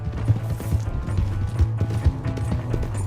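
Galloping horse in the video game Red Dead Redemption 2, rapid clip-clop hoofbeats in a steady driving rhythm, close and moderately loud under low game background sound.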